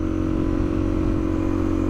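A 2022 Suzuki DRZ400 motorcycle idling loudly with its exhaust silencer removed, a harsh, steady, close-up engine drone with a throbbing low rumble and no talk.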